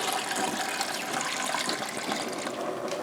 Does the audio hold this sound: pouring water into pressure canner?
yes